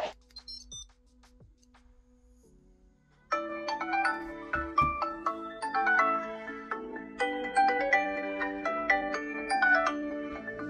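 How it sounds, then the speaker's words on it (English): A phone rings after being triggered by a Tile Bluetooth tracker. A few soft chimes come first, then a bright, melodic ringtone plays continuously and loudly, close by, with no talk. "you've got to double tap it, and then it will ring the phone that's connected"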